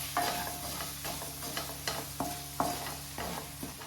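Vegetables with turmeric sizzle and scrape in a pan as they are stirred for foxtail millet kichadi, with soft repeated clinks of a spatula at a steady, unhurried pace.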